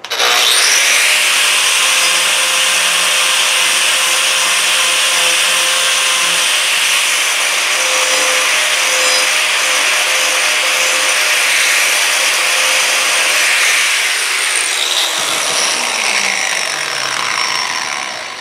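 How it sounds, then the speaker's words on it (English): Arbortech power carving tool cutting wood at high speed, a loud, continuous grinding roar with a steady whine that holds for the whole stretch and tapers slightly near the end, with no one speaking. "All right, high speed with the Arbortech."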